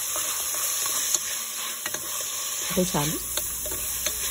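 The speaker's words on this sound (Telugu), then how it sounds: "దానికి ఒక 2 స్పూన్లు కర్రీ పేస్ట్ తీసుకున్నాను, ఉల్లిపాయలు అండ్ బ్యాంబూ షూట్స్." Onions and bamboo shoots fry with red curry paste for a Thai red curry with chicken, giving a steady soft sizzle close by, with a brief spoken word partway through.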